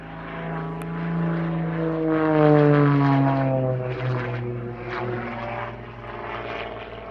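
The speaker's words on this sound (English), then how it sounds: "they selected this, the Extra 330 SC" An Extra 330 SC aerobatic propeller plane flies at an airshow in Meaux, its engine droning with shifting pitch as it climbs and passes, swelling louder midway then easing off, with no speech.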